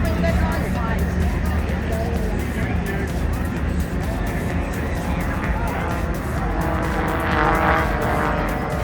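An aerobatic airplane performs at the Avalon Airshow, a continuous distant engine drone rising and falling under crowd noise and nearby chatter.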